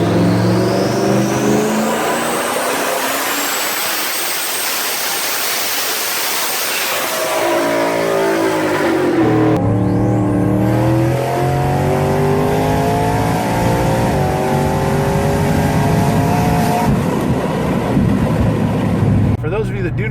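A 1300-horsepower Ford Mustang engine revs hard and close, its roar climbing and falling through several bursts with a steady harmonic drone between pulls, loud throughout the recording.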